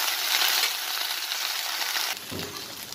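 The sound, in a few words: frying and stirring food in a pan with a little water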